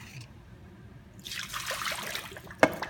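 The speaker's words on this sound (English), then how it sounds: "Dump the rest of the water out" Leftover water is dumped from a cup into a sink at a watercolor painting station, a short splashing pour that swells midway and ends with a sharp knock.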